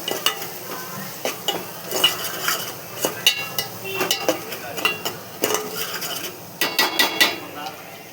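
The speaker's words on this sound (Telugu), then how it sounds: "అల్లము, పసుపు అన్నీ పచ్చివాసన పోయినాక" A pan of ginger and turmeric masala being stirred with a spoon that scrapes and clinks against the metal, each stroke standing out clearly over a low background sizzle.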